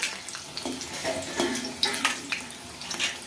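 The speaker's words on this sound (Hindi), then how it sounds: "हल्का हल्का आग में तलेंगे कि अच्छा से पकेगा" Stuffed taro leaves fry in oil over a low flame, with a close, soft crackling sizzle broken by light stirring clicks and pan contact.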